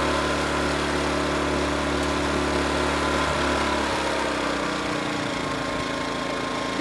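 Small inverter generator engine idling with smart throttle engaged during a module repair, a steady close drone that settles lower in pitch partway through as the idle drops.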